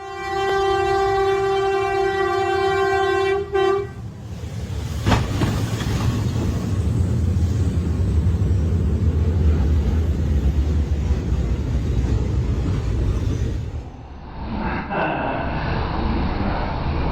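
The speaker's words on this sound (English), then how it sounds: "A massive avalanche suddenly thundered down Mount Elbrus in Russia" A massive avalanche on Mount Elbrus in Russia roars in as a loud, sustained low rumble, following a steady tonal hum that cuts off early, with a sharp crack and a noisier surge near the end.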